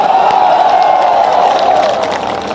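Crowd at an election rally in Chachaura Binaganj, Madhya Pradesh, keeps up dense, steady clapping and cheering from start to finish, loud and close.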